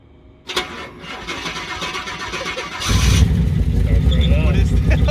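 A large Hummer H2 engine cranks and catches, then settles into a loud, deep rumbling idle nearby; a brief voice is heard just before it fires.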